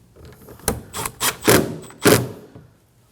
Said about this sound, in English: Now we can go ahead and install these 2 screws.